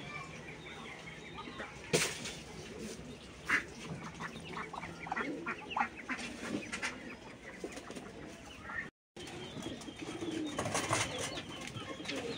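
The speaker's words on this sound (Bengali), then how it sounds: "এই তো কবুতরের বাচ্চাগুলো নিলাম" Farmyard birds, with pigeons among ducks, chickens and goats, calling in a scattered stream of coos, clucks and quacks at moderate distance, with one brief dropout.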